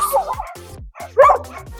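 Dogs barking outdoors in quick, loud bursts of yips and whimpering barks, several sharp calls crowding close together.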